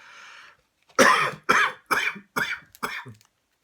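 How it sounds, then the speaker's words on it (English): Five sharp, harsh coughs in a row, close and loud, each a short burst with a brief pause between. "See, there I go, coughing again."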